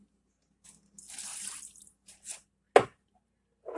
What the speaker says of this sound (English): then we're going to toss in our soy sauce